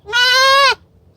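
A baby goat kid gives one loud, close bleat lasting about half a second, with a strongly pitched, wavering tone, then falls quiet.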